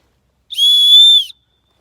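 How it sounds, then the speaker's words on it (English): A single loud, shrill blast from a hiking backpack safety whistle lasting under a second, steady and piercing, with silence before and after. "you can blow that whistle if you were to fall and hurt yourself"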